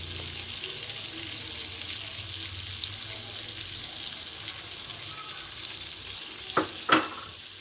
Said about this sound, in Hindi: और इसको चलाएंगे, अच्छे से मिक्स करेंगे।